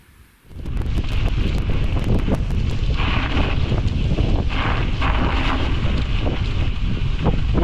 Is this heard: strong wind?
yes